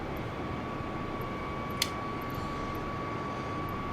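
An Airbus A320 comes in to land at an airport in Microsoft Flight Simulator 2020, producing a steady broadband engine roar with a constant whine and one brief sharp click partway through.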